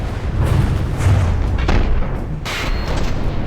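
Explosions rumble through a From the Depths boss battle, a dense, continuous roar of deep booms and artillery-like blasts with a sharper burst midway, loud and with no voices.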